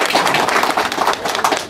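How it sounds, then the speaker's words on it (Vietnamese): A crowd applauds at a Vu Lan festival celebration at a Buddhist temple in San Jose, California: dense, steady clapping fills the whole short stretch, close and fairly loud. "Cho một tràng pháo tay."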